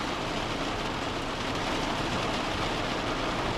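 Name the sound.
rain showers on Chesil Beach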